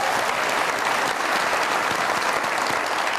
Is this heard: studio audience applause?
yes